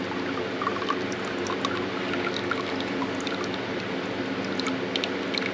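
Steady, continuous trickle of fluid draining from a 1974 VW Bus engine into a container, an even wash of liquid noise with faint drips and no speech.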